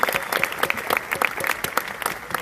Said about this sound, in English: they deserve one more round of applause